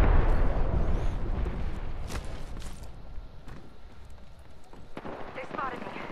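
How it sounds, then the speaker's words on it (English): An arc star grenade goes off in a video game: a loud, deep rumbling blast that slowly fades, followed by scattered sharp gunfire cracks over a steady battle din. "Throwing arc star."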